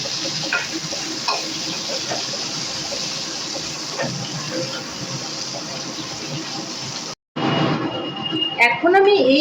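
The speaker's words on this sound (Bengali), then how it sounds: "পটলগুলো কিন্তু লাল লাল করে ভাজা হয়ে গেছে" Pointed gourd (potol) pieces frying in oil in a home kitchen give a steady, dense sizzle for about seven seconds, then a sudden break followed by louder clattering and stirring.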